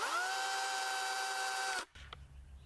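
A SKIL PWR CORE 40V 18-inch cordless chainsaw (CS1800C-15) whines at a high, steady pitch close by, then cuts out abruptly as the chain brake is applied, leaving only faint handling noise.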